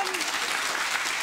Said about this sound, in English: They're still clapping a government.